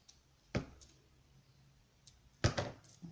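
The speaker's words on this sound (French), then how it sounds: "donc ça, je vais couper" Scissors snip off a small protruding bit of paper on a shabby-style paper craft, giving two sharp close cuts about two seconds apart, each with a short crisp click, in an otherwise quiet room.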